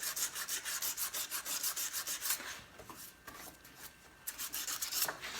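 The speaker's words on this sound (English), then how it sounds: "we're going to sand the magnet down to bare metal" Sandpaper rubbing the rusty flywheel magnet of a Craftsman DLT 3000 lawn tractor down to bare metal, a quick rhythmic rasp of back-and-forth strokes that pauses briefly midway, then resumes, close and fairly quiet.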